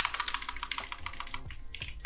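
Quick, close clicking of keys on a computer keyboard, a fast irregular patter of typing lasting about two seconds with no voice.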